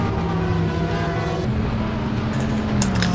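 A Porsche 911 race car with a new exhaust in a sim racing game, a steady loud engine drone with a shifting pitch, held for about three seconds without pause.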